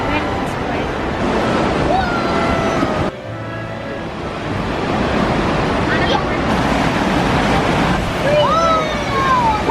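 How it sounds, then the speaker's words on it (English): A steady roar of rushing, falling water at Lower Yosemite Falls in March, mixed with wind buffeting the microphone, with occasional voices and faint whistles over it. "we made it to Lower Yosemite Falls."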